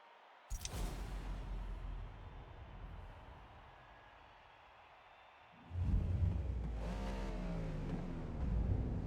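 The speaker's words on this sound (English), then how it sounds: "That way I can sit at the starting line and rev my engine like an idiot." A race car in Forza Motorsport sits at the starting line and its engine revs loudly twice, a sharp blip and then a longer rising roar after a quieter idle, close and alone.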